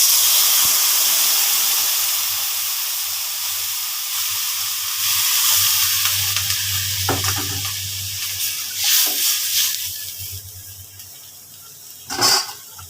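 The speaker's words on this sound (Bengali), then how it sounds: "এবার মাপ মতো জলটা দিয়ে দেব" Water poured into a hot, sizzling spice base for fish curry sets off a loud steady hiss and spatter that slowly eases, with a few sharper bursts toward the end.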